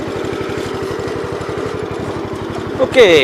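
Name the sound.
snowblower engine running on tractor 83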